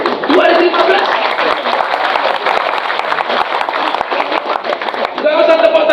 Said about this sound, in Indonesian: Gak usah tepuk tangan, nyamuk mati karena tepuk tangan.